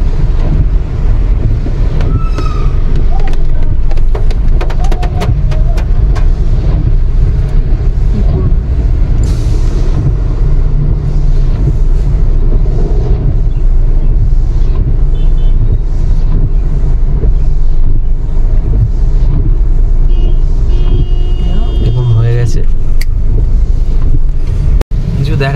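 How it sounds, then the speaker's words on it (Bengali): Heavy rain pounds a car on a highway road trip near a toll plaza jammed with lorries, while the wipers run fast. It makes a loud, constant roar that fills the cabin, with faint rhythmic sweeps beneath it. "ওয়াইপারটা জোরে চলছে ঠিক আছে, কিন্তু তাও বৃষ্টি এত জোরে হচ্ছে"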